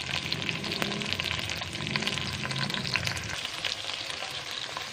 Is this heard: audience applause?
no